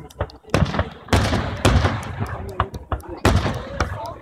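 Independence Day fireworks at a show, a rapid series of sharp bursts and booms at irregular intervals, with people talking over and between the blasts.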